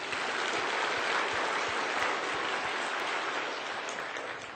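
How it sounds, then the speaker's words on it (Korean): A church congregation applauds in thanksgiving during a Sunday sermon, a steady, dense wash of many hands clapping that holds for several seconds before slowly thinning toward the end. "우리 하나님의 감사 박수요."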